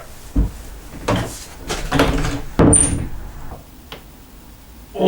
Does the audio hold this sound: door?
yes